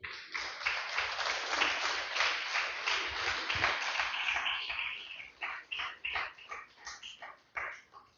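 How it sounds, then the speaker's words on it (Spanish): A church congregation claps and cheers for the Lord in rhythmic, strong bursts that break into separated claps toward the end, with no speech over it. "Den un fuerte aplauso al Señor"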